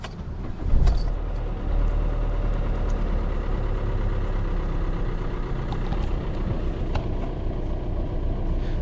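A Lamborghini engine running rough while low on oil after the oil light came on, idling with a steady, loud, low rumble nearby and a brief rise near the start.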